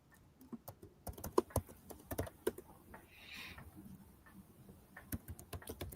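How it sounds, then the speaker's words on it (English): Quick irregular keystrokes clatter on a computer keyboard, close and soft, in bursts with short pauses between them. "I can hear you typing."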